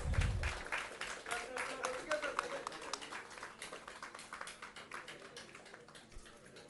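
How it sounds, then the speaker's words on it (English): An audience at a press club national conclave applauds, a faint, quick patter of clapping hands spread through the hall while a voice talks over it. "A bigger round of applause, please."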